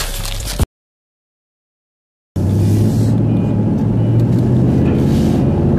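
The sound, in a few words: Mustang lawn mower engine running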